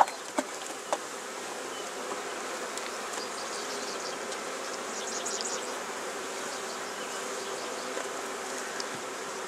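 Honeybees from an opened, healthy hive during an inspection give a steady, dense buzz that fills the whole stretch, with a few faint clicks near the start and no talking.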